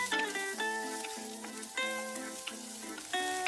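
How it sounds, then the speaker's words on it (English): Chopped carrots and onions fry in oil in a pan, a steady sizzle that rises and falls as they are stirred, alongside a repeating pattern of tonal notes. "In the same pan, add some more oil and fry the chopped carrots."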